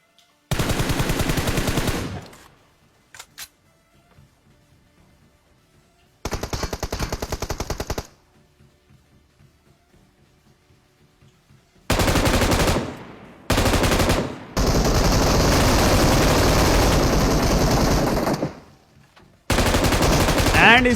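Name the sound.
M249 machine gun fire in PUBG Mobile video game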